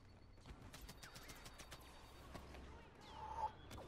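Video game gunfire from Star Wars Battlefront, rapid repeated shots crackling in bursts through a busy mix of game effects, with sharper blasts near the end.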